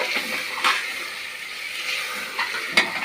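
Food frying in a pan while being stirred, a soft steady sizzle with a few sharper scrapes and clinks of a utensil against the pan, close and fairly quiet.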